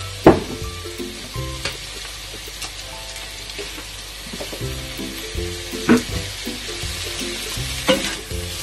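Egg fried rice, Thai style, being stir-fried in a pan with soy sauce, seasoning sauce and pepper gives a steady close sizzle, broken by sharp scrapes and clacks of the spatula at irregular intervals.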